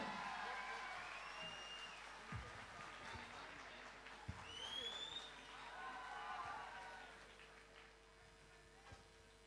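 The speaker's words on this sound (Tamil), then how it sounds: "ஒரு பலத்த கைத்தட்டல் தமிழர்கள் அனைவரும் இணைந்து" Audience applause at a Kuwait Tamil Sangam Pongal festival, faint scattered clapping and a few whoops under a quiet, distant room ambience, with speech mixed in.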